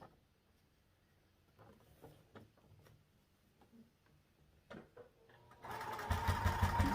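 A sewing machine runs as fabric is stitched down one side, its rapid rhythmic mechanical chatter starting near the end after quiet handling clicks and taps.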